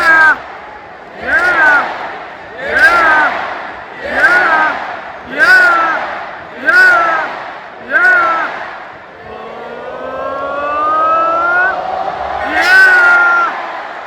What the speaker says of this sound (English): The crowd was electric.